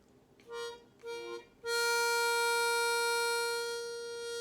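A harmonica sounds two short separate tones before a single blown note on hole 4 swells in and holds, steady and bright, for a few seconds up close.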